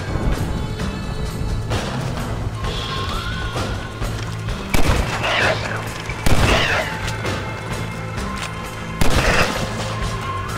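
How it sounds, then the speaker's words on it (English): Heavy shotgun blasts in the Western game Red Dead Redemption, roughly three loud booming shots spaced a couple of seconds apart over a busy background of game music and effects. "Thank God for this shotgun."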